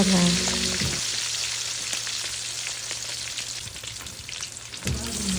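Chicharong bulaklak fries in hot oil with a dense, steady sizzle. A brief clatter sounds near the start and again near the end.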